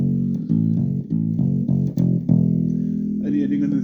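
An electric guitar picks out a riff, a series of plucked single notes in a steady rhythm with distinct attacks, close and clear, ending on a sustained note as a voice briefly speaks near the end.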